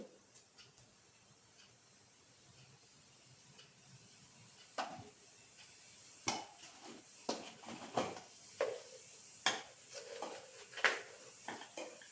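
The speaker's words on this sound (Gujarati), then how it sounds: "જીરું લાલ થાય અને ચટકવા આવે એટલે આપણે એમાં હિંગ એડ કરીશું" Cumin seeds crackle and pop in hot oil while being stirred, with faint sizzling at first, then a run of sharp, close clicks and ticks repeating every half second or so.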